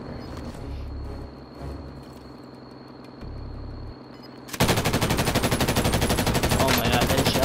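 Loud unsilenced automatic gunfire in a video game erupts and hammers on in a rapid, steady stream, preceded by a few quieter muffled thumps and soft ambient game sounds.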